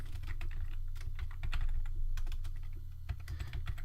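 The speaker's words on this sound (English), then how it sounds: "just write in here pragma mark leader stuff" Rapid, continuous clicking of keys being typed on a computer keyboard while code is written, close and moderately soft over a low steady hum.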